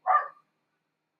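A single short dog bark, close and clear, followed by silence.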